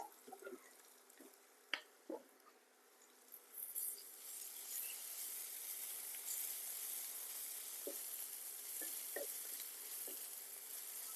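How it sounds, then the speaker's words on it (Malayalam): Ginger garlic paste sizzles steadily in a hot pan for a Kerala-style mackerel fish curry, preceded by a few sharp clinks and scrapes as the paste goes in, then a continuous close frying hiss. "ഇതിലേക്ക് ഞാൻ 1 table spoon ginger garlic paste ഇടുന്നുണ്ട്."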